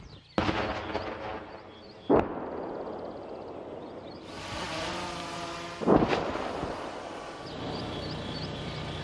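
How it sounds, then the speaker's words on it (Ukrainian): Heavy artillery cannonade along a dangerous frontline road in Ukraine: several deep, booming blasts at intervals, with a vehicle engine roaring and swelling through the middle, loud and close with no talk. "Суцільну канонаду заглушає лише ревіння двигуна."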